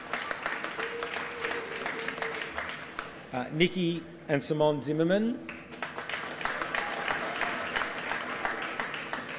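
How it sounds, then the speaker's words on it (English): An audience applauds at a Mercedes-Benz Fashion Week Australia event as Australian Fashion Laureate nominees are announced, a steady wash of clapping with an announcer's voice speaking over it midway. "Give them a clap."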